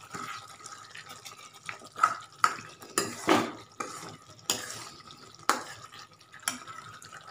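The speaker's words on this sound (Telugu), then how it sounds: "ఒకసారి తిప్పుదాం." Stirring a pot of taro curry (chema dumpala pulusu): a series of spoon scrapes and clinks against the pot with soft bubbling between them. The strokes are close and moderately loud, with no talk.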